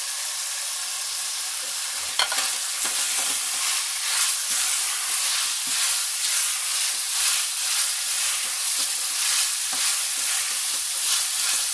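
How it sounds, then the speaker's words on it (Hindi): Chicken fried rice with capsicum and spring onion sizzles loudly in a hot pan, a steady hiss of frying broken by rhythmic scrapes and clinks of stirring, close up with no talking. "और एक एक इसे अच्छे से मिक्स कर लेंगे।"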